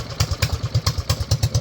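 A mini bike engine idling with a steady, uneven lope, low thumping pulses repeating about every fifth of a second with a clattery top, close and moderately loud with no talk.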